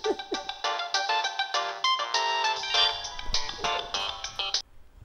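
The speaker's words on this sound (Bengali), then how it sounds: "তোর ফোন বাজতেছে।" A mobile phone ringtone plays a bright, repeating melodic tune at close range, ringing steadily for about five seconds before cutting off, with no voices over it.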